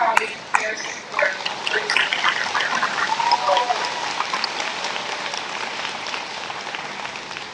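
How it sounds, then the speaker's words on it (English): Audience applause at the 2022 Jackson County Fair coronation, honoring Miss Jackson County Fairest Fair: steady, dense clapping from a crowd, sustained throughout at moderate level. "Another round of applause for our very first 2022 Miss Jackson County Fairest Fair."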